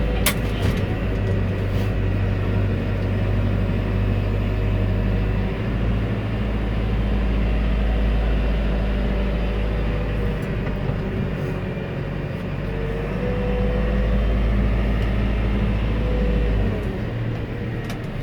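A 2019 JCB 542-70 Agri Super telehandler engine held at high revs, a loud, steady, close diesel roar with a strong low drone and whining hydraulics, running unbroken throughout with no talk.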